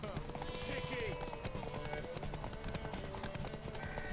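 Horse hooves clip-clop in a steady rhythm in The Witcher 3, mixed with game music and other sounds while voices talk over the top.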